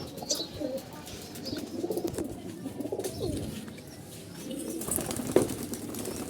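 Pigeons at a pigeon loft coo in low, throaty bursts that rise and fall across the stretch, with occasional soft wing flutters and faint chirps nearby.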